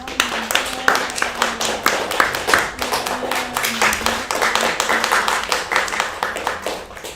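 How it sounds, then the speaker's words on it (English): Audience clapping at a mayoral and sheriff debate, with individual hand claps clearly audible in a fairly dense, steady rhythm that carries on for several seconds. "we can have an applause from that"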